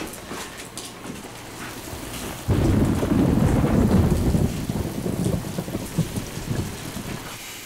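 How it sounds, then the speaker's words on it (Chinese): Heavy rain pours steadily, with a deep rolling thunder surge breaking in partway through and lingering as a loud rumble before easing back under the downpour. "下雨啊？"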